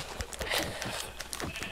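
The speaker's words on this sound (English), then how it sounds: "Oh, sheep." A few short sheep bleats from the Minecraft video game sound close and moderately loud, scattered among soft game clicks and footsteps.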